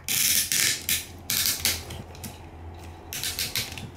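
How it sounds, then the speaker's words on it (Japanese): Plastic joints of a Transformers Unite Warriors UW-01 Superion combiner toy clicking as parts are folded and arms lowered, a series of close, crisp bursts of ratcheting clicks with short pauses between them. "このカチカチという音が小気味ですよね"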